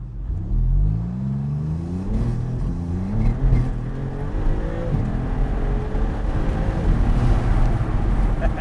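A supercharged Porsche Boxster sports car accelerates hard from inside the cabin, its engine note climbing through rising gear pulls with brief dips at shifts, loud and close, with a deep rumble and wind rush underneath.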